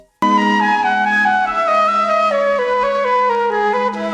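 A classical music sample is played back on an MPC Live 2, starting abruptly with a sustained, rich orchestral chord whose harmony shifts gradually, loud and steady throughout without any talk.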